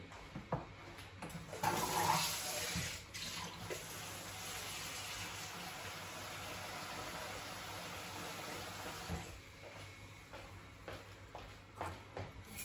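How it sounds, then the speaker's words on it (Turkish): Water is poured into a pot of soup in a home kitchen, a brief rushing splash that fades into a steady hiss of background noise. "Şimdi su eklemesi de yapayım"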